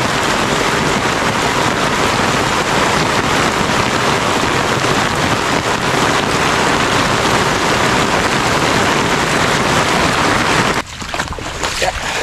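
Dense, steady roar of heavy rain pouring down for a long stretch, close and loud, then abruptly thinning near the end.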